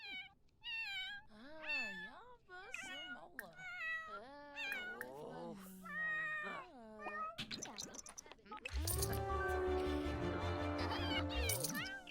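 A cat in The Sims 4 meows repeatedly, a string of clear, varied, close meows and mewls, followed by a denser burst of game sounds toward the end.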